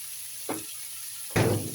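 Squid with long beans and shrimp paste stir-fried in a pan, heard as two short sizzling bursts, the second louder and longer, over a steady background hiss.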